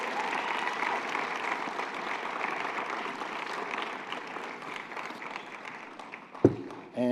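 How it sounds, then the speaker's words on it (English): Sustained applause from a sizable crowd at an awards ceremony in New York City, steady and fairly loud, fading slightly toward the end before a brief bump and another sound cuts in. "So let's give them another round of applause"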